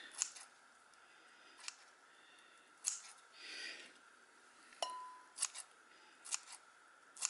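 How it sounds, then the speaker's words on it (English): Sharp snips of kitchen scissors cutting through vegetables for spring rolls, several irregular cuts with brief pauses, close and crisp in a quiet room. "you will notice I chop with scissors"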